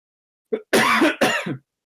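A person coughs in two or three close, harsh bursts, a short lead-in cough followed by two louder, raspy hacks, heard alone at fairly close range.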